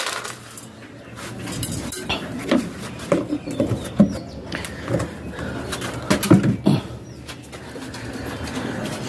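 Soft, low pigeon coos repeat on and off against a clattery background of metallic clinks and rustling, fairly close and moderately quiet.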